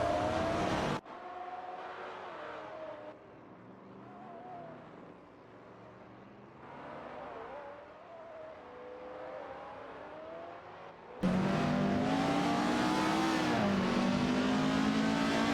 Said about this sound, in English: We're just spectating some wild AI-driven cars zooming around.